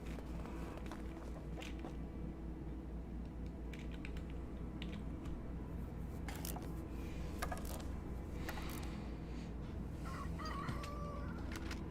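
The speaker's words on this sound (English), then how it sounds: "That rooster is being plenty loud." A rooster crows faintly in the farm-life video game Medieval Dynasty, set against a low steady hum. Light computer keyboard clicks come through here and there, and a brief crow rises near the end.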